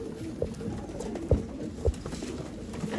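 Jack Cheeni pigeons at a pigeon sale in Bangalore, giving soft, low cooing calls over a steady background hiss, with a couple of slightly louder coos standing out.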